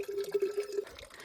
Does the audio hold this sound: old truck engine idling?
no